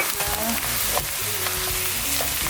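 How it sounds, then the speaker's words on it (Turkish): Minced meat frying with onions in a pan for lasagna, a steady close sizzle with faint scraping, no voices. "Soğanlarımız kavruldu. Hemen kıymamızı ekliyoruz."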